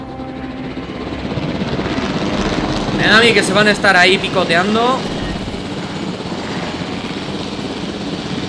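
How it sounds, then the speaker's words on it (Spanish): Helicopter rotor and engine drone in the Jurassic World dinosaur game, a steady loud whirring hum throughout with someone talking excitedly over it midway. "Vamos a pillar el helicóptero"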